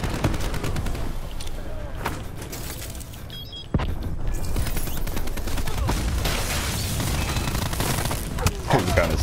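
Rapid gunfire from the Call of Duty: Black Ops multiplayer game, dense and continuous bursts layered with booms and explosions, loud throughout with a brief dip near the middle.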